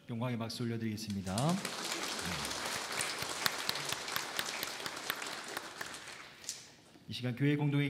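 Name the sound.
congregation applauding in church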